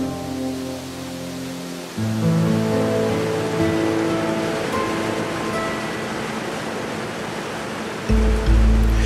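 Immense water masses of an Ecuadorian Andes waterfall plunge into the depths toward the Oriente, a steady loud broadband roar that swells abruptly near the start and again at the end, with no voices.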